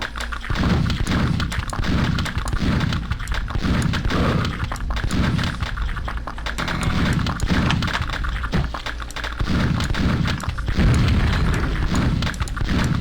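Repeated booming blasts from a video game as exploding slugs blow up enemy spawns, heavy thuds and bursts arriving every second or so over a dense, continuous roar of game noise.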